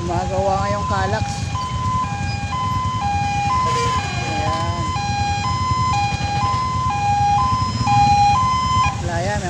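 A wailing two-tone ambulance siren alternates steadily over constant heavy traffic rumble near Sabutan, loud and close, with brief voices underneath.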